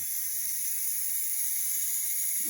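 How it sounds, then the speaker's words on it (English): A Ninja pressure cooker on quick release letting steam out, a continuous loud, steady hiss close by with no break. "do a quick release, which is letting the steam out now."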